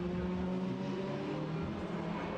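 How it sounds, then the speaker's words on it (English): GT4 race cars, including a BMW with a twin-turbo inline-six, run during qualifying at Circuit Zolder in the Supercar Challenge, giving a steady, moderately distant engine drone with a faint turbo whine. "Probably the turbocharged whistle of the Elantras, but of course the GT4 BMW also powered by that twin turbo inline 6 engine"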